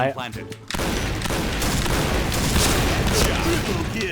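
A grenade blast in a Point Blank shooter game, a sudden loud burst followed by several seconds of dense roaring noise and gunfire rumble, with a voice heard briefly before it.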